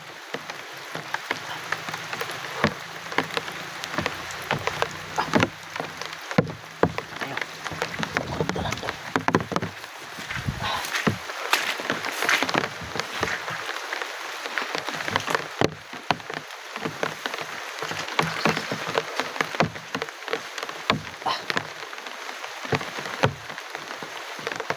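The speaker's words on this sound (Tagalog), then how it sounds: "Malakas ang ulan mga idol. Malakas ang ulan." Heavy rain pours down steadily, a dense continuous hiss with scattered louder drops and splashes throughout, no voices.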